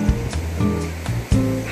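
Ocean surf washing onto a beach in Ghana, West Africa, in broad rolling surges with a couple of stronger crashes, steady and fairly close with no voices.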